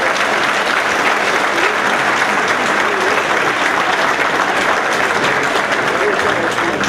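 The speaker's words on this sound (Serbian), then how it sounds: "veliku aplauza" Concert audience at an annual performance by folk dance ensembles, clapping in loud, sustained, continuous applause that fills the hall.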